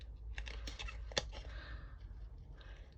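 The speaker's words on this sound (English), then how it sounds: "let the scissors do the work, and you just move the card as it snips" Scissors snip through card while fussy cutting around a stamped flower, leaving a white border: a quick run of small, crisp, close clicks that fade into quiet handling.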